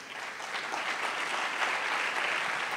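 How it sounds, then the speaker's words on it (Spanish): Audience applause at the Coin 2023 congress welcoming a speaker, a steady dense wash of clapping from a crowd that holds even throughout the few seconds. "Vamos a recibirlo con un fuerte aplauso."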